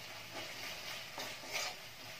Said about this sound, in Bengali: মশলাটা কষছে এই সময় আমি সামান্য একটু চিনি দিয়ে দিচ্ছি।